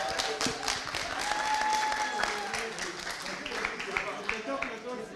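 Audience at a Pan African conference on illicit financial flows and taxation breaks into applause, a lively patter of clapping with some voices mixed in.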